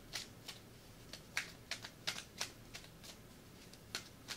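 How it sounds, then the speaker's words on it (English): A Day of the Dead tarot deck being shuffled by hand, quiet and close: soft, irregular riffling flicks and light card slaps in short bursts, with no voices. "So I'm going to go ahead and shuffle the cards."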